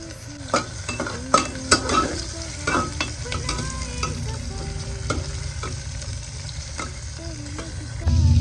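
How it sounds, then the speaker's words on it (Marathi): Chopped onions sauté over heat with cumin seeds in a pan, a continuous sizzle under frequent sharp scrapes and taps of a spoon stirring, near and fairly loud, with the frying swelling slightly at the end. "आता मी कांदा टाकते. हे सगळं परतून घ्यायचं आपल्याला व्यवस्थित."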